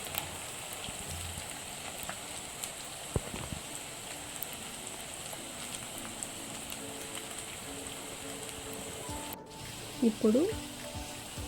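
Cauliflower pieces for Gobi 65 deep-frying in hot oil give a steady, even sizzle that runs throughout, with a brief word spoken near the end over the frying.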